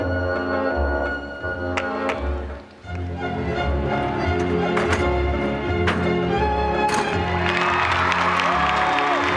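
A crowd at the 1998 U.S. Gymnastics Championships in Indianapolis cheers and applauds a women's gymnast, with steady clapping and shouts that fill the arena, swelling louder toward the end with a brief dip partway through.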